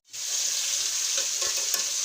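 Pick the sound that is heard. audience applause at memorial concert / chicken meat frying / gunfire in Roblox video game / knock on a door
chicken meat frying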